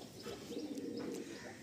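A Madrasi pigeon coos softly in a low, rolling murmur, faint and continuous for a moment, with no one speaking.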